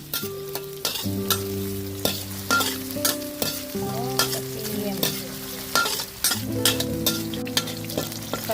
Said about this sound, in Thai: ใส่ซีอิ๊วขาวน้ำตาล ต้นหอมไป ไปผัดให้หอม